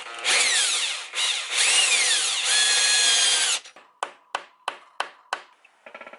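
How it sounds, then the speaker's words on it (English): A power drill bores through a skateboard deck in several long, loud whining bursts, followed by a series of sharp, evenly spaced taps and short knocks. "let's get this deck drilled and the battery fixed"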